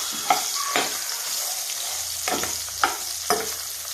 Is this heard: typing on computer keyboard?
no